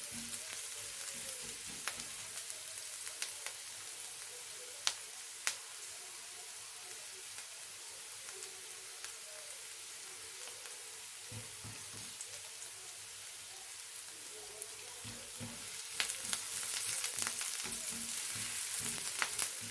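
Onion and garlic sauté together in a pan with a soft, steady hiss throughout, broken by occasional light clicks and stirring knocks that grow a little louder near the end.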